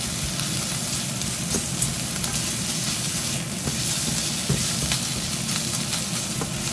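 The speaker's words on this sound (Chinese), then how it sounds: "就可以加埋啲火腿落去炒一炒啦" Ham is stir-fried in an iron wok, a continuous loud sizzle with scraping spatula strokes and occasional clacks against the metal, close-up and steady throughout with no speech.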